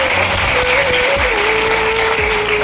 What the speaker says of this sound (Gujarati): એકદમ જોરદાર તાળી પાડો બધાયની.